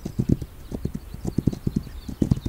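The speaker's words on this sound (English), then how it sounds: "I hear a horse." Horse hooves clip-clop in the survival game This Land is My Land, a rhythmic run of close, distinct hoof strikes at a steady walking pace.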